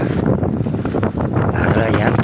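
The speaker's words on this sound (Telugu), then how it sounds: "గాలి మామూలు గాలి కాదు పిచ్చి గాలి చేసింది" Strong wind gusting outdoors around a farm field hut after a tent was torn, a loud continuous roar buffeting the microphone, with voices faintly mixed in.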